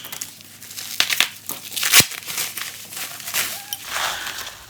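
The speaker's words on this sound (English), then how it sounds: "let me unwrap it for you first" IKEA packaging is unwrapped up close, with crinkling and crumpling material and a few sharper tearing snaps coming in irregular bursts.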